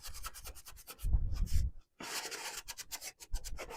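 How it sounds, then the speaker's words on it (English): Creamy wax is rubbed by hand onto a wooden cabinet cubby, giving close, brisk scrubbing strokes in quick bursts with a couple of brief pauses. "So I'm just going to put some of the creamy wax,"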